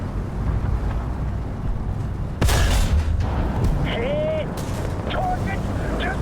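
A tank cannon round strikes a BTR's ammunition in War Thunder, giving one heavy boom and a burst of noise with a rumbling tail, followed by faint whistling effects over a steady battle-engine drone.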